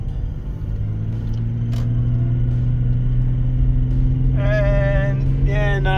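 Land Rover Discovery 3 engine with a sticking turbo actuator, a loud, low steady rumble as it climbs a steep hill at low speed under boost, with a brief whistling tone near the end.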